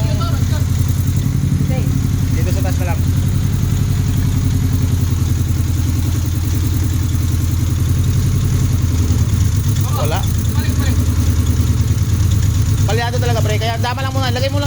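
Honda VTI car engine idling steadily while warming up after a long period sitting unused, with a slight misfire; a constant mid-pitched hum with light clatter continues throughout.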